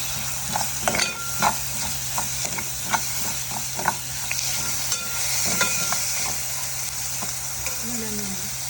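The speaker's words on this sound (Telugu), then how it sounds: "ఇవి కూడా ఫ్రై చేసుకోవాలి. అల్లం వెల్లుల్లి పేస్ట్," Ginger garlic paste fries in a pan for paneer butter masala, giving a steady bright sizzle with regular scraping and clinking stirring strokes, close up and with no talking.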